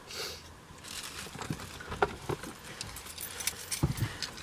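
A bunch of keys jangles and clinks in irregular bursts against a busy background rustle, fairly close and moderately loud, with no clear talking.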